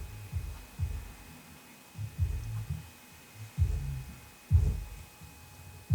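Music played through a repaired subwoofer, deep thumping bass pulses in an uneven beat, fairly quiet and heard from the room with a low hum beneath and no talk.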